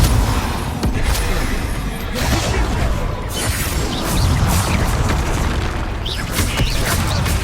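Bombarda spell blasts in Hogwarts Legacy burst as dense, continuous booms and crashes layered with whooshes, loud and close throughout with no clear pause between impacts.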